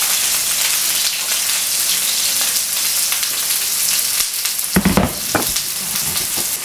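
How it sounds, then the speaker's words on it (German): Loud, steady sizzle of vegetables frying in hot oil, with a few stirring scrapes and clatters near the end. "Olivenöl in die Pfanne. Das lassen wir jetzt schön heiß werden. Und dann kann das Gemüse angebraten werden"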